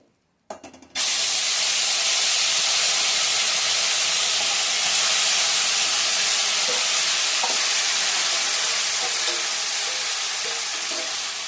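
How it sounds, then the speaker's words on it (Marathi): Cooked broken wheat porridge hits hot ghee after a short quiet moment, setting off a loud, sustained, close sizzle and spatter that continues steadily to the end. "आता हे जे तूप आहे ह्या तुपामध्ये हा शिजलेला दलिया मी घालणार आहे"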